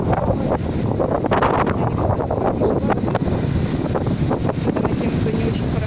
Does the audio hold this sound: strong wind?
yes